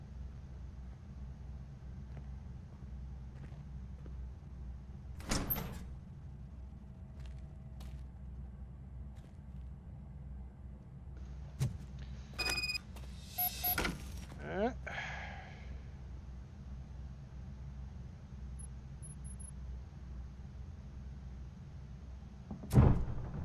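A door being opened in the game RoboCop: Rogue City, heard as a short thump followed several seconds later by a cluster of clunks and a sliding mechanical rush, all set against a constant low rumbling background.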